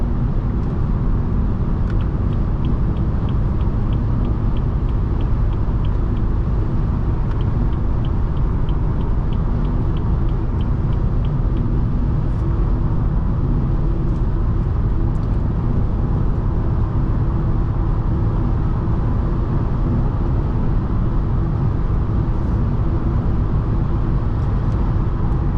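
A 2017 BMW 440i coupe cruising on a highway at about 82 mph, a steady, continuous low rumble of road and engine noise filling the cabin with no talk, unchanging throughout.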